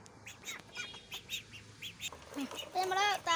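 Ducks quack and chatter as they are fed a mixed feed, with a run of short, close calls that grows louder and busier toward the end.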